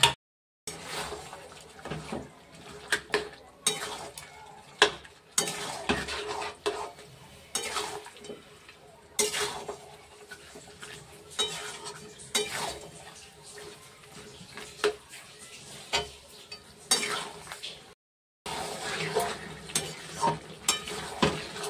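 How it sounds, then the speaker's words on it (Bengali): Mutton with salt, chilli, cumin, turmeric and Kashmiri chilli powder fries in oil in a pan while being stirred, giving a steady low sizzle broken by repeated scraping stirs and clinks, close and moderately loud, with a brief silent gap. "সবে তেলটা ছাড়তে শুরু করছে, আর একটু কষতে হবে।"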